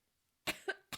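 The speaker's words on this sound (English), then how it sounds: "Coughing break." A person coughing three times in quick succession after a moment of silence, close and fairly quiet.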